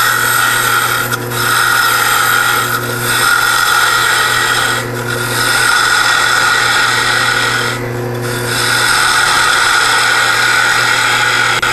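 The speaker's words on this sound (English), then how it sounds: "now we're going to take our 3/4 inch roughing gouge and continue to shape the top" A 3/4 inch spindle roughing gouge cutting a spinning wood blank on a lathe, a loud continuous scraping rasp over the lathe's hum, with short pauses between passes.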